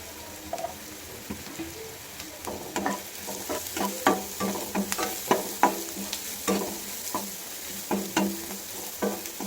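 Onions fry in a pan with pepper powder while a spoon stirs them, giving soft continuous sizzling broken by repeated scraping and tapping strokes against the pan, close and alone without talk.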